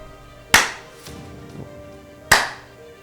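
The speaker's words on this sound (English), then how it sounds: "Oh, I should probably clap actually." Two sharp, loud hand claps about two seconds apart, each standing alone in an otherwise quiet room, with no talking between them.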